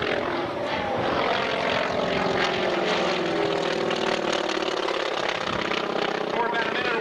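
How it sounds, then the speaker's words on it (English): A T-6 propeller aircraft, a kangaroo-marked variant, roars past in a loud, steady flyby at an air show, its engine drone filling the whole pass while an announcer talks over it. "This is a variant of the T-6 aircraft."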